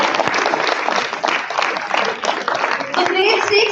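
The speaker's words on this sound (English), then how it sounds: "I'm sure they receive a round of applause for that." Audience applause at a school graduation ceremony, busy and fairly close, with scattered voices mixed into the clapping.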